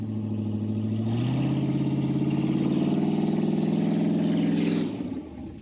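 An off-road car stuck in the dirt revs its engine hard, a loud, sustained low roar that rises in pitch, holds steady for several seconds, then drops off abruptly.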